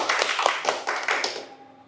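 A small audience at an Islamic sermon claps on cue, a short run of uneven hand claps that dies away after a couple of seconds.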